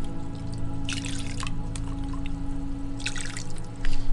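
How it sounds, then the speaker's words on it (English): A coral frag being rinsed off after a sandy fragging session, with water dripping and splashing in two short bursts over a steady low hum of aquarium equipment. "we're pretty much just rinsing it right off."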